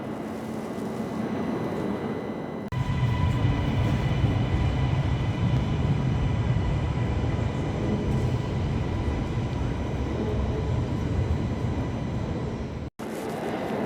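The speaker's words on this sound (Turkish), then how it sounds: "Evet, tren istasyonundayız şimdi." Steady low rumble and droning hum of trains idling in São Bento train station, Porto, continuous and loud, with a sudden brief cut near the end.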